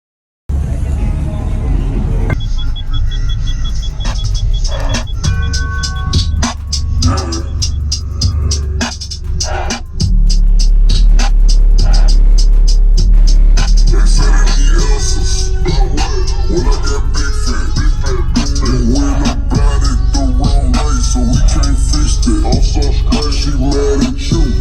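Cheap $80 car audio subwoofers pound out a loud bass demo inside a car, with heavy low thumps and rattling under the music throughout, rising even louder partway through.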